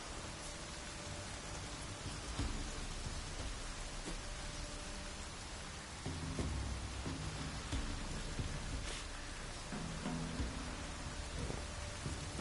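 Heavy rain falls in a Witcher game setting while thunder rolls low beneath the continuous hiss, with a few louder swells and crackling peaks along the way.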